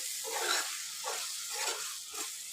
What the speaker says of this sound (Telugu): ఒకసారి కలుపుకుందాము క్యాబేజ్.